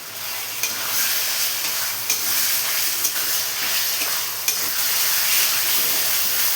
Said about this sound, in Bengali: এই মশলার সাথে চিকেনটাও ভাজা হয়ে যাচ্ছে একসাথে